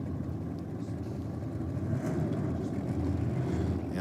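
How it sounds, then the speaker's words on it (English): A supercharged drag racing car engine turns over at a drag strip race meeting, producing a low, rumbling roar that is fairly distant and steady, with a slight swell toward the end. "I thought my ears could hear a supercharged power plant turning over"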